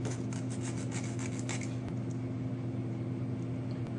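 A hand file rasps plastic tabs on the window of an HO-scale Walthers grain elevator model kit, with quick close scraping strokes over constant background hum.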